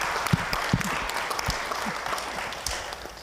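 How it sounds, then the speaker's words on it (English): A final round of applause for panelists at a discussion on South Africa's electricity crisis, a steady crowd clapping with a few distinct nearby hand claps standing out, fading slightly toward the end. "Final round of applause for our panelists."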